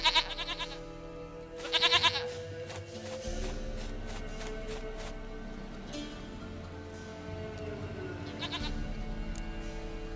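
In the Witcher 3 video game, a goat gives a few separate bleats, a pair near the start and another later, over a steady in-game ambience with faint taps, moderately loud.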